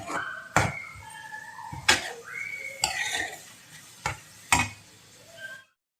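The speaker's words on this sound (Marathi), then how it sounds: "आपला कांदा टमॅटो व्यवस्थित गळेपर्यंत एकजीव होईपर्यंत व्यवस्थित परतून घ्यायचे" Onion and tomato being stirred in a pan, with a metal spoon striking and scraping the pan in five sharp clanks spaced about a second apart over a soft sizzle.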